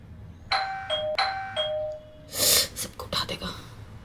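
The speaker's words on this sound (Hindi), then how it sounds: "बोला था सुबह सुबह घंटी मत बजाना," A doorbell chimes twice in a clear ding-dong pattern nearby, followed by rustling and muffled noises.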